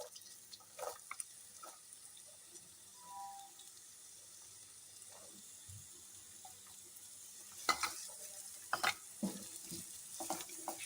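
Chopped onions for veg keema samosa roasting gently in a pan, a soft steady sizzle with scattered stirring scrapes and a few clinks and splashes near the end; no talking.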